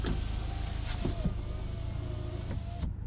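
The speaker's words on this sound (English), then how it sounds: "Kind of some loud window motors on this thing" The electric window motors of a 2024 Volkswagen Golf R whine steadily as the windows roll up, close by, with soft mechanical clunks and a sudden stop at the end.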